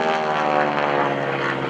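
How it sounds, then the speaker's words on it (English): Aerobatic airplane at an airshow, its propeller tips going supersonic during a maneuver, giving a loud, steady, harmonic-rich rasping drone that holds throughout without talk. "That's the tips of the propeller as they go supersonic."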